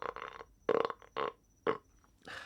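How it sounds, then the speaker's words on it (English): A series of burps from a man comes as short, loud, throaty bursts, about five in a row with brief pauses between them, close to the microphone. "so I don't burp very often anymore"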